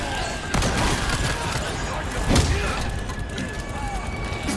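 Gunfire in Resident Evil 4, a couple of sharp loud shots standing out over a dense, noisy game soundscape, with a player talking over the action.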